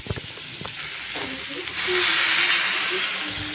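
Brinjal palya cooking in a pan, a steady close sizzling hiss that swells louder midway, with faint stirring knocks near the start.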